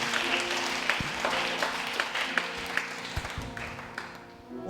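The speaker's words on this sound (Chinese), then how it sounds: "掌声来归荣耀给我们的神" A congregation at a Chinese-language church worship service claps together in a sustained round of applause, with scattered louder individual claps throughout, fading slightly toward the end.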